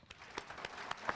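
Scattered clapping greets graduating BLET Recruit Class 73 in Winston-Salem, with a few distinct, fairly faint claps sounding at uneven intervals over a short moment rather than a full, dense ovation.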